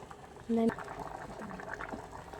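Water boiling in an open pressure cooker while egg biryani is cooked, a steady close bubbling with a short electronic beep near the start.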